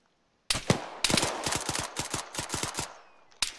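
Rapid gunfire in the Arma 3 game: a burst of loud, sharp shots in quick irregular succession, fairly close, with a final lone shot after a short pause, no talking.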